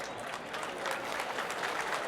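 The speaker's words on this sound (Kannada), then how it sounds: "ಸನ್ಮಾನ್ಯ ಶ್ರೀ ಜಿ.ಎಸ್. ಪಾಟೀಲ್ ಸರ್ಗೆ ಎಲ್ಲರ ಕಡೆಯಿಂದ ಒಂದು ಜೋರಾದ ಚಪ್ಪಾಳೆ." Loud applause from an audience welcoming a politician, G.S. Patil, onto the stage at a public event, steady dense clapping sustained throughout without speech.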